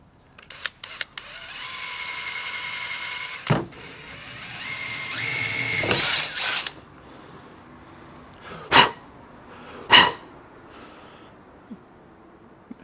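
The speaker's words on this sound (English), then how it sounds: "I need to drill through here to make it into a hollow straw." A power drill bores through a hollow stem to make a straw for a bee hotel, whirring in two sustained bursts with short clicks and taps between them.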